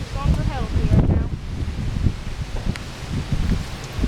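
On a windy day of bass fishing outdoors, gusts buffet the microphone and rustle nearby leaves in a steady low roar, with someone talking over it.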